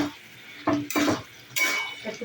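Chole being stirred and sautéed in a pan with pepper and salt, a few distinct scraping clatters of a spoon against the metal pan, close and separated by brief pauses.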